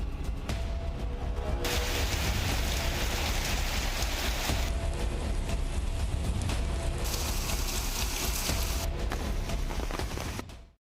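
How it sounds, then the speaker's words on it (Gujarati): Heavy monsoon rain in South Gujarat pours down in a dense, continuous roar that stays loud and steady throughout, then cuts off abruptly at the end. "ધોધમાર વરસાદે જનજીવન અસ્તવ્યસ્ત કરી દીધું"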